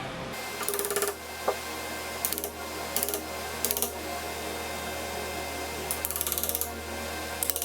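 Short bursts of scraping and tapping as a chisel cuts wood for a deadbolt installation, coming in irregular clusters over a low steady mechanical hum.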